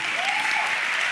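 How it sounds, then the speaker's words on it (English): Audience applause at a debate, a dense, steady wash of clapping from a large crowd, loud and continuous. "made a point which drew a resounding applause from the crowd"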